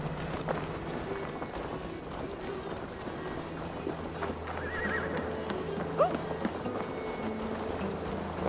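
A wild horse whinnies and trots about in Assassin's Creed Valhalla, a rising neigh over the game's steady ambient bed, with soft hoofbeats and other game sounds around it.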